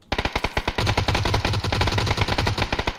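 Rapid automatic gunfire from a PUBG squads match, a loud sustained burst of closely spaced shots running almost without pause from start to end.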